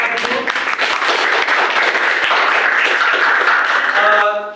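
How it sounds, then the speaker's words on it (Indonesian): A classroom of students applauds a group after its presentation, with dense, sustained clapping filling the room for several seconds before tapering off, mixed with some voices. "beri tepuk tangan buat kelompok 1"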